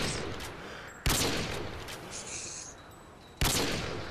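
Gunfire from the Modern Warfare 2 video game: two sharp, loud bursts about two seconds apart over a busy bed of distant game battle noise, with no talking.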